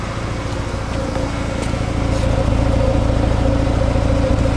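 An Acura Integra engine with a worn, smoking motor idles steadily after a throttle blip, a continuous low rumbling drone with a faint rhythmic pulse, close and fairly loud, no voices.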